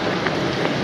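Heavy rain pours outside a hotel during a thunderstorm, a steady dense hiss of close, loud drops running unbroken through the whole short moment.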